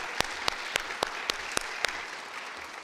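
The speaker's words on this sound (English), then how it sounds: "yes, we can give her a round of applause" Sparse, evenly spaced claps from a small number of people at an inauguration ceremony for the Oregon Kid Governor, about seven sharp slaps over a few seconds before fading into quiet room tone.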